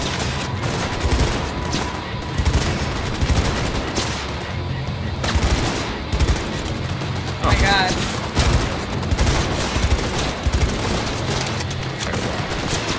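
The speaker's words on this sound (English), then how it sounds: "The rifle is hard to use, Trina" Rifle gunfire from the video game Cyberpunk 2077 rattles in repeated bursts and fusillades. A voice talks between and over the shots.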